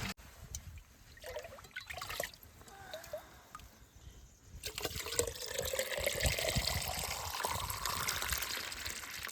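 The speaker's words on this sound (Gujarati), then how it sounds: "અહીંયા પાણી અહીંથી ભરવાનું છે વાંધો નહીં પ્યોર નેચરલ પાણી" Lake water trickles and gurgles as drinking water is filled from it at a campsite on an island, quiet and close, with the flow growing steadier and fuller partway through.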